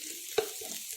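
Onions sizzle steadily while frying in a heavy pot for Hyderabadi chicken biryani, with one brief sharp clink of the stirring spoon against the pot early on and softer scraping after it.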